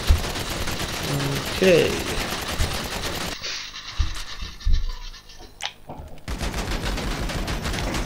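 Combat PDW gunfire in GTA V, fired at a tank in an armor test: rapid continuous bursts with a gritty rattling texture, broken by a short pause, and a brief spoken word in between.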